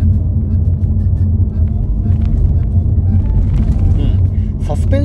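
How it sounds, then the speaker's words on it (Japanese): Inside a Toyota Yaris Cross hybrid driving over a rough road, a loud, steady low rumble of road noise and vibration continues throughout, with faint rattles and knocks above it. "今結構な悪路を走ってるんですけど"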